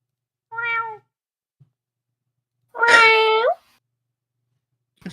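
A house cat meows twice, a short call followed by a longer, louder one after a pause, close and clear against silence.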